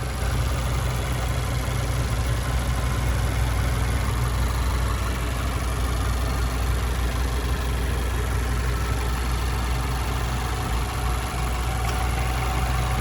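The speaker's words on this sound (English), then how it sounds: "As you can hear, I do have the car running." A Mazda 3 SP25 GT car engine idles steadily with the bonnet up, a continuous low rumble holding an even level throughout with no talking.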